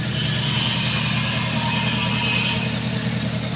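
A car engine idles steadily up close, a low even rumble with a faint higher hum, unchanging for a few seconds with no talking.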